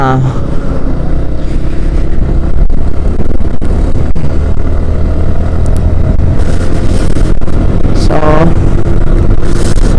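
Steady, loud road-vehicle rumble fills the whole stretch, consistent with a large vehicle rolling past on a road on a cold day, with a brief higher engine swell near the end and voices faintly under the noise.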